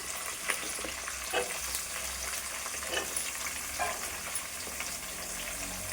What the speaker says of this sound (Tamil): இப்போ இதில் நம்ம இந்த சின்ன வெங்காயத்தை சேர்த்துக்கலாம்.